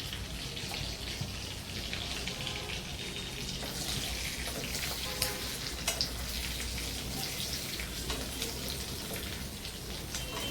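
Chicken drumsticks frying in hot oil for a chicken fry, giving a steady dense sizzle and crackle with scattered pops, close and even throughout with no talking.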